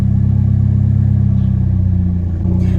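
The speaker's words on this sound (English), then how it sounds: "the RPMs are going up and down" A broken shop car with its check engine light on idles with a deep, steady rumble, then its revs dip and surge near the end, loud and close with no talk.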